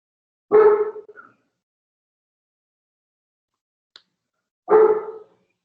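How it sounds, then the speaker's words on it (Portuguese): A dog barks twice indoors in a home office setting, each bark loud and close with a short trailing yelp, separated by several seconds of silence with a faint tick between. "Não reparem o cachorro não, gente."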